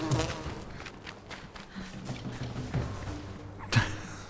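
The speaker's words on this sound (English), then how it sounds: "Wow, bees!" Bees buzz in the open-world survival game Enshrouded, a steady insect drone under the scene with a few soft thuds and one sharper knock near the end.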